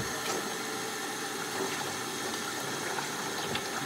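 Warm water runs steadily into a large bucket, a continuous rushing, splashing stream that stays even and close throughout.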